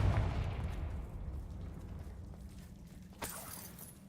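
Confringo fire-blast spell cast in a wizarding video game: a deep, muffled boom at the start that rolls away slowly, followed by a small sharp crack near the end, fairly quiet overall.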